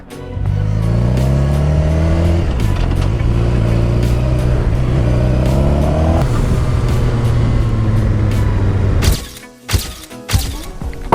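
A motorcycle repainted pink pulls out of a parking lot, its engine droning loud and steady with rising and falling revs for about nine seconds before cutting to a few brief knocks and clatters.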